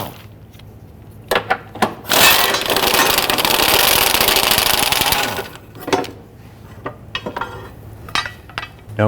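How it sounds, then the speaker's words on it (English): A 16mm socket wrench works loose the bolts on a bracket under a 2011-2021 Jeep Grand Cherokee 3.6L V6: a few seconds of loud, steady mechanical whirring rattle, then scattered sharp metallic clicks and clanks, close by with no talking. "Using a 16mm socket, we're going to loosen and remove the 4 bolts for this bracket."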